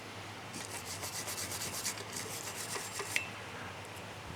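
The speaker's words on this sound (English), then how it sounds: "make sure we get all the rust off of that hub" Rust being scrubbed off the wheel hub of a Mazda6 during a front brake upgrade, a steady close rasping rub in quick repeated strokes that stops near the end with one small sharp tap.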